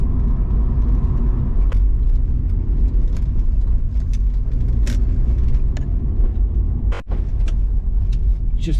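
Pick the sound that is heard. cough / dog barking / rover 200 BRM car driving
rover 200 BRM car driving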